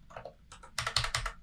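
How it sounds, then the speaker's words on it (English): Quick bursts of typing on a computer keyboard, a few soft keystrokes followed by a louder flurry of clicks, close and alone in a quiet room. "That's all the typing that was necessary."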